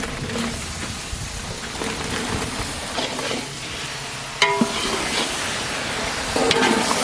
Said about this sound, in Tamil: வெட்டி வச்ச கத்திரிக்காயை சேர்த்துக்கலாம்